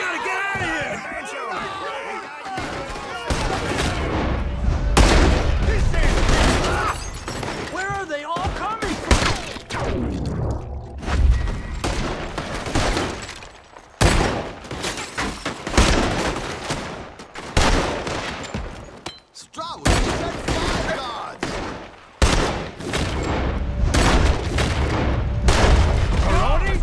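Gunfire in the video game Red Dead Redemption 2, with repeated shots and bursts scattered through a loud, busy battle scene alongside shouting voices and music.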